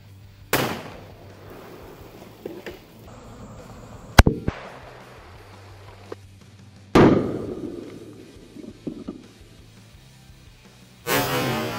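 Several sharp, loud gunshots from a Smith & Wesson .500 Magnum revolver firing soft-point rounds through a row of water-filled milk jugs, spaced blasts with splashing and brief ringing echo outdoors.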